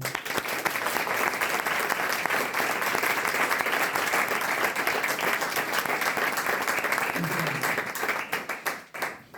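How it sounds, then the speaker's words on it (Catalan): A concert audience celebrating the Brigada Intergeneracional claps in a long, thick burst of applause, steady and full for most of its length before thinning into scattered final claps at the end. "Un aplaudiment."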